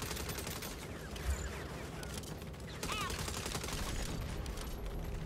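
Turret machine gun fire in Saints Row, a fast, steady rattle of rounds that holds at a constant pace and gets slightly louder partway through, fairly faint under engine rumble and scattered game effects.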